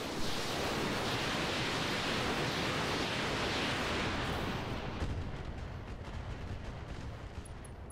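In the BattleTech Roguetech video game, mech weapons fire in a continuous dense roar of explosive noise that fades slightly toward the end, with no speech over it.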